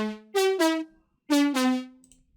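Two dry future house synth lead phrases with no effects: each is a pair of bright, buzzy sustained notes that stop cleanly with no reverb tail, with a short silence between the phrases.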